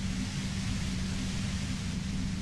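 Steady hiss of white noise from the video game Disco Elysium, a dense, even wash that holds at constant loudness with a low hum beneath it and no voices.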